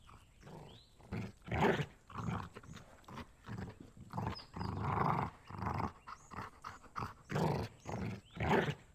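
A dog in the video game Rosewater growls in repeated low, rumbling bursts, loud and close, with brief pauses between each snarl and faint hoof clops in the background.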